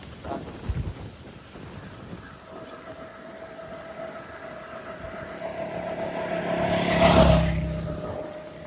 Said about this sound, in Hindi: पानी नहीं बरस रहा है और हवा इतनी भयंकर तेज चल रही है।